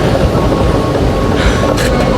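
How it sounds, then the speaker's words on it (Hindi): Steady rumble of a metro train in a Dubai station, a continuous low roar with faint hiss and brief higher swishes near the end. "finally I mean here in the metro station,"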